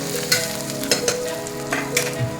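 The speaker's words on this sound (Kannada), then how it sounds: "ಫ್ರೈ ಮಾಡ್ಕೋಬೇಕು ಇದನ್ನು ಹಸಿ ಸ್ಮೈಲ್ ಹೋಗೋದು" Mushroom gravy masala sizzling as it fries in a pan, a steady close crackle with a few louder stirring scrapes spaced through it, no voices.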